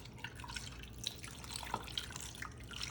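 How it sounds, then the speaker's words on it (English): Beef broth pours over potatoes in a crock pot, a steady liquid trickle with scattered drips and splashes, close and moderately quiet, with no voices. "Now I'm gonna cover these guys with a little bit of beef broth."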